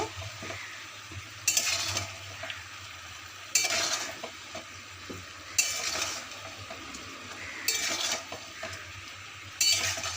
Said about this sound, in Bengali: সমস্ত মশলার সাথে ভালো করে সবটা আমরা মিক্সড করে নেব